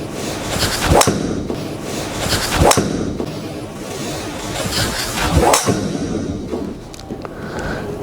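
A golf 3-wood strikes a ball on the range in a hard, quick-stopping swing, giving sharp, loud cracks at irregular intervals over steady outdoor background noise, with no talk.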